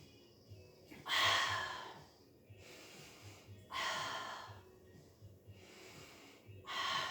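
Heavy, forceful exhalations during a Pilates core exercise with feet held off the floor, three strong breath bursts spaced a few seconds apart over a steady low background, close and fairly loud.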